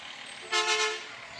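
A waste-company truck in a small-town Minnesota parade gives one short, loud horn toot lasting about half a second, standing out near and clear over faint background crowd noise.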